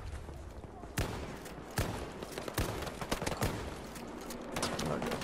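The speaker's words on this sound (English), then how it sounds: "Shooting at me." Battlefield 2042 gunfire in sharp, fairly distant cracks and short bursts, scattered irregularly over a busy background of battle noise.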